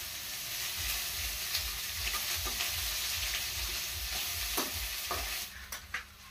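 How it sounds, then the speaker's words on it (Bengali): Onions frying in a pan after cumin, sizzling steadily up close with regular scraping strokes of a spatula, alone without talk. "পেঁয়াজটা একটু লাল লাল করে ভেজে নেব।"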